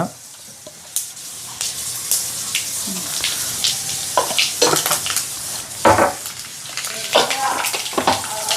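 Mustard and cumin seeds drop into hot coconut oil in a pan, giving a steady sizzle scattered with sharp crackles and pops over about nine seconds, with a voice faintly present at times.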